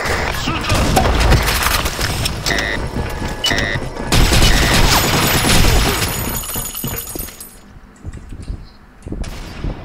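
Rapid gunfire in the BlackShot video game, dense volleys of loud close shots for about six seconds that thin out and fade, then a few final bursts, with little talk.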